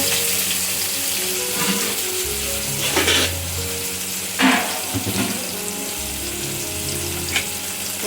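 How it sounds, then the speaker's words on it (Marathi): Onion and tomato fry in a pan for a dry prawn curry, a loud close sizzle with a few sharp scraping stirs, while a low rumbling hum comes and goes beneath. "टोमॅटो पण मस्त असं फ्राय होऊ द्यायचं"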